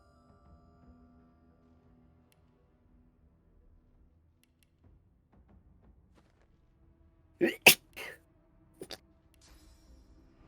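After a quiet stretch, a single sudden sneeze bursts out nearby, followed by a couple of smaller sharp sounds.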